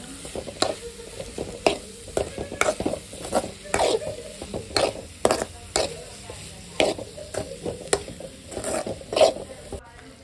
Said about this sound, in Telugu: బాగా కలుపుకోండి, కారం ఉప్పు అన్నీ కలిసేలా.